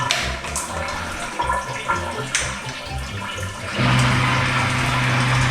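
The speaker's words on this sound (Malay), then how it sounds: "So kita tengok air pressure dia, seberapa kecil airnya sebelum kita buka pump." Weak water flow runs from a tap in a low-pressure house fitted with a Teka water heater. The steady rushing stream swells louder near the end, with a low hum joining in.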